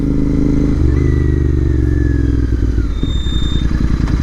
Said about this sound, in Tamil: எக்ஸாஸ்ட் இவ்வளோ சவுண்டு லவுடாக இருக்கும்னு நான் நினச்சி கூட பார்க்கல